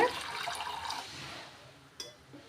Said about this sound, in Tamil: ஒன்றரை கப் தண்ணி ஆட் பண்ணிக்கோங்க